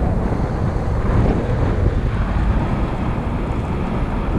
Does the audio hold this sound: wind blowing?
yes